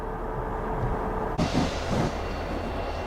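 A local freight train passes through a snowy New York rail yard in a blizzard, a steady low rumble of rolling cars at moderate distance with a brief clank partway through.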